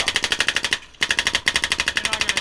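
Rapid bursts of airsoft gunfire crack out loud and close, two quick strings of evenly spaced shots separated by a brief pause, with no talking.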